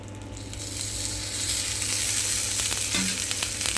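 Ragi adai, a finger millet flatbread, fries on an iron dosa griddle with a steady, close sizzle and crackle of hot oil that swells slightly partway through.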